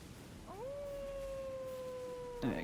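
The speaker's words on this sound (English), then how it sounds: "So you heard there a howl." A single long howl in the Elden Ring video game, coming from a person on a ledge above: it rises quickly, holds a steady pitch for about two seconds, and ends in a sudden clatter, heard alone at moderate distance.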